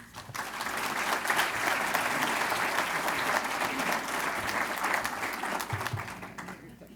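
An audience applauds steadily as a speaker is welcomed to the podium, dense sustained clapping that swells quickly and fades near the end, with no talking over it.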